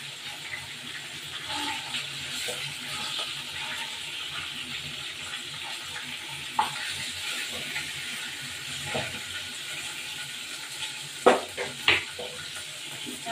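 Chicken pieces sizzle steadily in a hot pan while a utensil scrapes and clinks now and then, with a few sharper knocks near the end.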